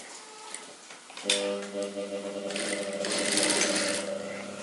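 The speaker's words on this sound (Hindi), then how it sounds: "तो यहाँ पे एकदम ही सिर्फ इतनी सिलाई लेंगे" Domestic sewing machine stitching small tucks into a princess-cut blouse, a clear steady mechanical whir starting after a brief pause and running close and loud to the end.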